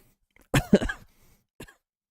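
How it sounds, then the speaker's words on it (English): A single sharp cough bursts out close to the microphone, followed by a rough second burst and a brief thump as the mic is jostled, then a short faint trailing noise. "I coughed and I shook my mic."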